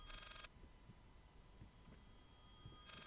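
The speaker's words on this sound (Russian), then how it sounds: "Блядь, звук такой раздражающий, просто когда звонит этот телефон." Telephone ringing in the Layers of Fear horror game: a brief ring cutting off at the start, a quiet low stretch with soft thumps, then another ring beginning at the end.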